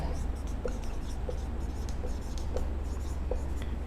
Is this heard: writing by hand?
yes